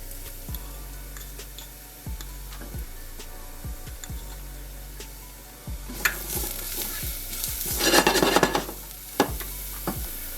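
Minced garlic hits a pan of onions and sizzles up with a burst of frying hiss midway, alongside repeated light ticks of stirring and scraping; no talk.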